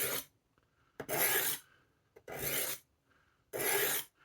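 A fixed-blade knife drawn across a Lansky turn box sharpener gives three close, loud rasping strokes, each about half a second long and separated by short pauses, with faint scraping in between and no talking.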